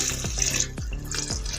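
Water poured into a cooking pot while making goat paya, a short splashing pour with a few gurgling bursts, close and fairly quiet.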